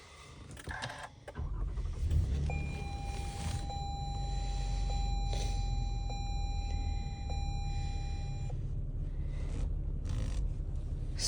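A 2020 Toyota Sienna Limited starting by push button: a brief click and whir, then a steady low idle hum, with a series of evenly spaced electronic chime beeps sounding over it.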